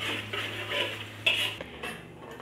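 Three eggs being whisked with a utensil in a bowl, giving a quick, rhythmic clatter and scrape that runs steadily at close range, with no talking.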